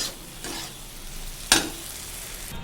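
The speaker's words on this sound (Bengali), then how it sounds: "এবার একটু নাড়াচাড়া করে এটাকে ঢাকা দিতে হবে" A pan of taro flower with turmeric and oil is stirred over gentle heat. A soft sizzle sits under a few faint scraping strokes, with one sharp clink of a utensil against the pan.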